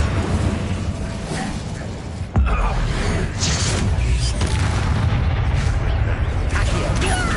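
A fire spell blast in Hogwarts Legacy: a loud, dense roaring burst that fills the scene, with a sharp jolt midway and continuous rumbling effects, heavy game combat noise throughout.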